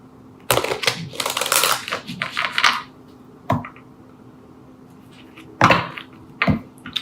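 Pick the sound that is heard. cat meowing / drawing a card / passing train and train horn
drawing a card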